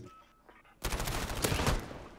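Gunfire in the Call of Duty Modern Warfare video game: after a quiet moment, a sudden sustained stream of rapid automatic shots erupts, loud and near, lasting to the end.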